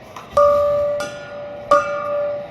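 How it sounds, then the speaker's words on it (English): A victory bell rings after a Dodgers baseball win, two or three clear metallic strikes with long ringing decay, loud and close, heard alone without talk. "The victory bell has been rung, and the Dodgers have won this game."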